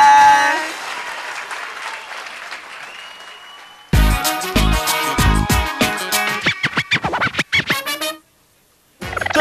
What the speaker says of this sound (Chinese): 我们继续鼓掌，继续